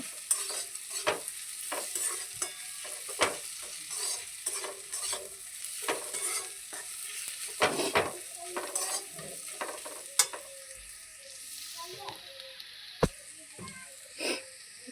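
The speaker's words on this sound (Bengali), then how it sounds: "ভাজা হতে থাকবে একটু।" Grated ginger and spices fry in a wok for a sour fish curry. A soft, continuous sizzle is broken by repeated scraping stirs of a spatula, heard close and fairly quiet.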